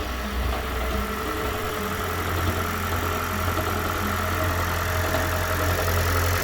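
A Lexus CT200h engine with a blown head gasket starts and runs roughly at a steady idle, with a low, uneven knocking rumble throughout; loud and close, no voices.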